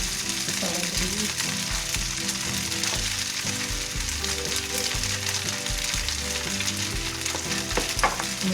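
Lemongrass and celery frying in a wok for bihun goreng, a steady close sizzle with spatula stirring and scraping throughout, no talk.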